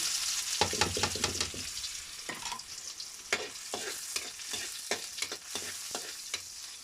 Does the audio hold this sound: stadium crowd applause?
no